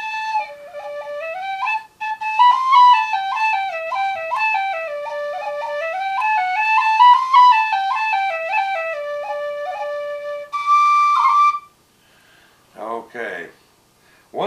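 A clear, bright tin whistle plays a quick ornamented run of notes up close, ending with a held tone and a brief burst of noise.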